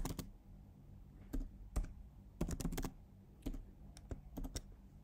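Computer keyboard typing while entering an IP address and login details for an SSH connection to a Huawei NE40E router, with irregular bursts of crisp key clicks separated by short pauses.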